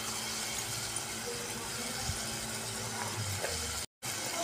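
Mushrooms frying in butter in a pan, a steady dense sizzle with faint stirring scrapes, close and continuous with a brief dropout near the end.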